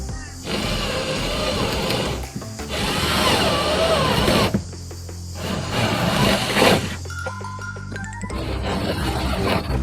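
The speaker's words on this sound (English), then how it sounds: "So time to drill yet another hole in my boat." A power drill whines in loud bursts, drilling a hole in a kayak hull, stopping and restarting several times, close up with a steady mechanical buzz.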